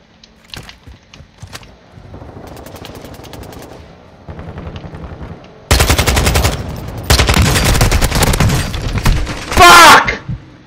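Gunfight in the video game Call of Duty: scattered single shots give way to loud, sustained bursts of automatic fire, close and dense, ending in a heavy blast.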